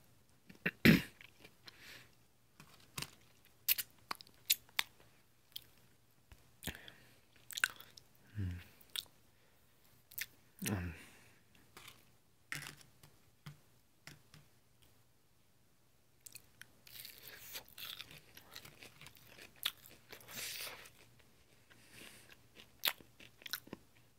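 Crunchy fish sticks being chewed up close in a quiet room, a long series of crisp bites and wet mastication in irregular bursts, with a throat clear and stretches of near silence between.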